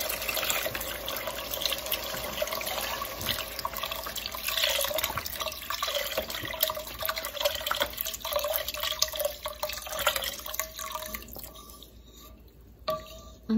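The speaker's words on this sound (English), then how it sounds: "Most of the liquid is gone, so now I'm going to add the broth." Organic beef broth pours into a pot of French onion soup as a steady, close liquid splashing and trickling that runs for several seconds and then tapers off, with no talking.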